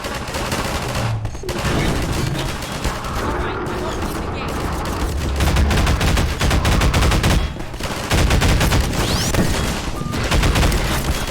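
Automated turret gunfire in Half-Life 2 rattles in dense, continuous bursts with heavy low booms throughout, loud and close, mixed with other game effects and occasional voices.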